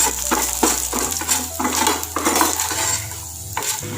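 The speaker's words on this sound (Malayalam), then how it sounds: "ഇത്രയും നന്നായിട്ട് ഫ്രൈ ആയാൽ മതി" Spinach fries in a pan as a utensil stirs it, bringing repeated scraping and clattering strokes over a continuous sizzle, close and fairly loud, with no voices.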